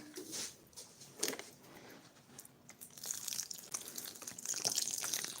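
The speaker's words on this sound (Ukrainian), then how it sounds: "Розбавляємо відстойною водою." Settled water poured onto potting soil mixed for a ficus, a soft trickling and splashing with wet crunchy squelches, close and quiet, growing busier toward the end.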